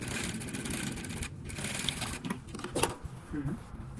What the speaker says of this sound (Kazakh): Тап осылай ортасынан на лапку тігетін боласыз.